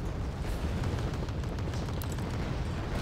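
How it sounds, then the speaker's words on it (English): Artillery explosions in the wartime strategy game Wargame Red Dragon, a dense, continuous rumbling roar of blasts blending into a steady low-heavy wash, loud and unbroken throughout. "More artillery on this position."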